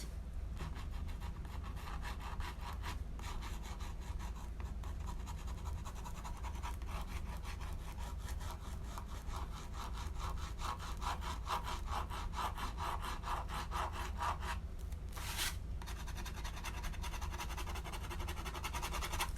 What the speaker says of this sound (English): Does it sound like I am marking on a chalkboard? This is a milk pen, not milk, a jelly roll pen.